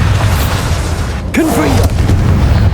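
A Bombarda spell blasts in Hogwarts Legacy, with a loud, dense, sustained booming roar throughout. A voice briefly shouts partway through.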